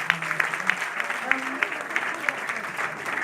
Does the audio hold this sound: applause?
yes